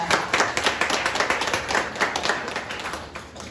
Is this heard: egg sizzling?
no